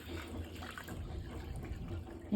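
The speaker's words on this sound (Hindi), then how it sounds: "मैं कुछ पानी गर्म कर रही हूँ अपने लिए और मेरी मम्मी के लिए हॉट वाटर बना रही हूँ।" Water runs from a kitchen tap, being filled to heat, a steady soft splashing rush throughout with no talk.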